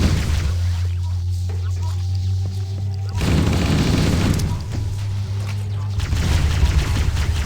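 Gunfire rings out in Halo CE Anniversary as dense bursts of booming shots and explosions fill the scene, loud and continuous, with a voice talking over the game action.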